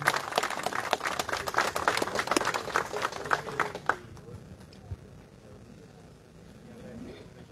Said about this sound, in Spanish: Don Ángel, un aplauso para el señor